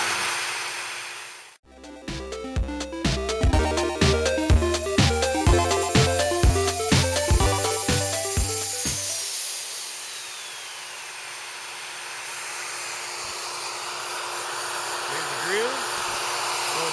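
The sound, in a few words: Hercules plunge router cutting a groove test cut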